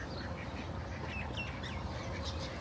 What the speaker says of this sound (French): Oula, il m'a l'air bien vénère ce canard là.